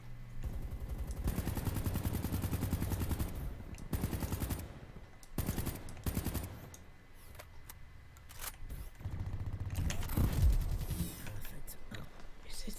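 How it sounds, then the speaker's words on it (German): An allied reinforced turret fires in Call of Duty, bursts of rapid automatic gunfire in several separate volleys with sharp single shots between them. "Verbündetes verstärktes Geschütz eingesetzt."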